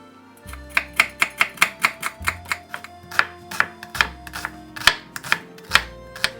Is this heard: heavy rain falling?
no